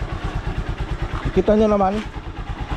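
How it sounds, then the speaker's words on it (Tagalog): A Honda Supremo motorcycle idles without choke in a steady, close putt-putt rhythm while someone speaks briefly over it. "Alright, umaandar siya kahit hindi natin ginagamit itong choke at yung push starter."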